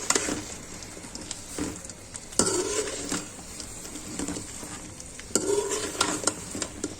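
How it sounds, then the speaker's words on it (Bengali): Jujube pickle is stirred in a pan over medium heat, a soft sizzle underneath repeated scraping strokes of the spoon, with a few louder scrapes standing out near the mic. "এখন আমি নেড়ে দিব। ভালো করে নেড়ে মিশাতে হবে।"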